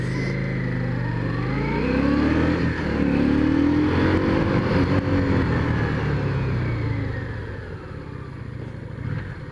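Yamaha V-Star XVS650A Classic motorcycle riding through town, its engine revving up and easing off in smooth, rising and falling sweeps under steady wind noise, with no talking.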